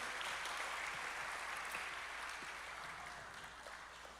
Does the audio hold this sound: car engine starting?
no